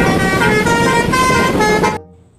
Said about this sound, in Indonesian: Ada bus telolet atau bus basuri.